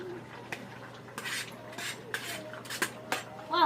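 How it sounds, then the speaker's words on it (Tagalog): A spoon scrapes and clinks against a pot crammed full of cooked snails and fern, irregular close metallic knocks and stirring rattles over a low steady hum. "Parang mahirapan ako maghalo."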